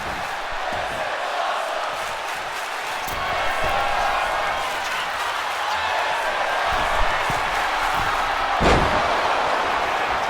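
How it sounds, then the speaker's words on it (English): A wrestling arena crowd at a pay-per-view event yells and roars continuously, a dense loud wall of voices with occasional thuds and a sharp slam near the end. "You can hear the crowd yelling, "This is awesome.""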